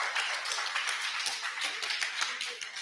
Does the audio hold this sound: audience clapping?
yes